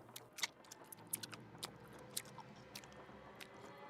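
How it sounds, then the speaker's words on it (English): Gum chewing in a Nancy Drew video game, Legend of the Crystal Skull, heard as soft wet clicks and squishes in an uneven rhythm, close and quiet with no talk. "Nancy chewing the gum is killing me."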